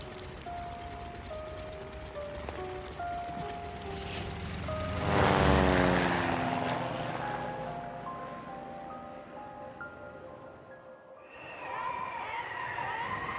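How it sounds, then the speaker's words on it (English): A propeller airplane passes by, its engine drone swelling to a loud peak near the middle with a falling pitch sweep, then fading away over a musical background. "the plane"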